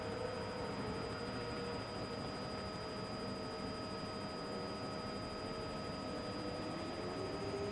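A helicopter hovers over a motor race on the Adelaide street circuit, giving a constant, faint whirring rotor drone with a steady high whine running through it, heard alone without commentary.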